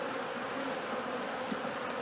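Dense, steady buzzing of many honey bees in a hive, close and continuous with no talking.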